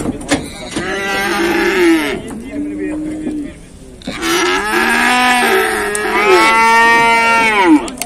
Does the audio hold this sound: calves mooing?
yes